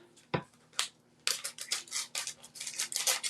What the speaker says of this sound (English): We take our little scissors.